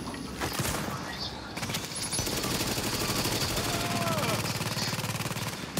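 Rapid automatic gunfire in the video game The Division, sustained bursts running nearly the whole time, loud and close, with brief speech fragments mixed in.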